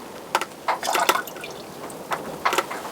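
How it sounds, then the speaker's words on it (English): Water tipped out of a freshly thrown clay teapot on a potter's wheel, a handful of short irregular splashes and pours, close and moderately loud, with no talk. "I'm just gonna tip the water out because it's probably full of water"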